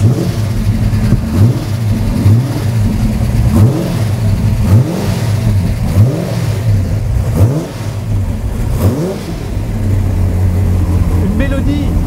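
An American 400-horsepower V8 car engine revs repeatedly, with its deep, throaty pitch rising and falling in close, loud bursts while people talk nearby.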